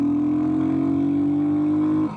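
A Royal Enfield motorcycle, an INT650 or Hunter 350, runs close by with a steady droning engine note that holds level for about two seconds before dropping off as the throttle closes.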